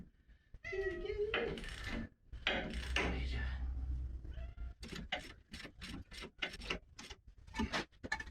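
A cat meows several times, fairly close, in a workshop where a Massey Ferguson TO-35 tractor is being reassembled, followed by a run of sharp rhythmic ticks or taps.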